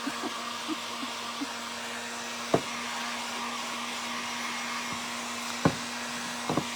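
A hair dryer gives a steady, close whirring hum as it dries freshly painted thrifted birds, with a few light clicks and knocks scattered through the continuous blow.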